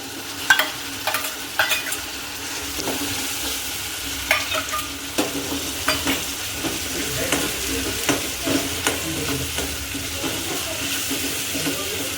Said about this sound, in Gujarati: ત્યાર પછી એમાં આપણે ડુંગળીની ગ્રેવી નાખશું.